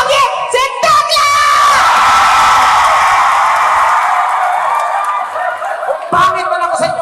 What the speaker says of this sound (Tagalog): Magpalakpakan po, may kasamang sigawan